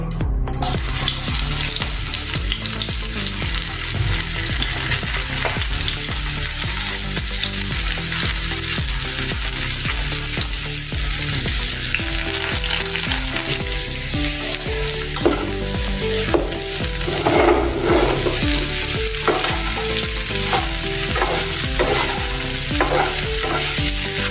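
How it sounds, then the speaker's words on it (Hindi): Spiced okra and potatoes fry in oil in a pan, a loud continuous crackling sizzle heard close up for the whole stretch, with faint stirring movements underneath and no talking. "अभी इसको हम दोनों को फ्राई करेंगे, भिंडी और आलू को। अभी पैन में तेल डालेंगे।"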